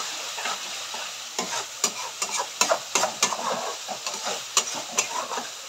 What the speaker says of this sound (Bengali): মশলা খুব সুন্দর করে ভাজা হয়ে গেছে, তোমরা দেখতেই পাচ্ছ